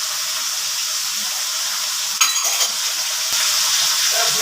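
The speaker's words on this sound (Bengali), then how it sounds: "মাছটা বসিয়ে দিলাম। কি মাছ জানি না, মাছটা অনেকটা ফুটছে।" Fish sizzling and bubbling in hot oil in a home kitchen pan, a steady close hiss throughout with a brief burst of louder crackle and a few soft clinks partway through.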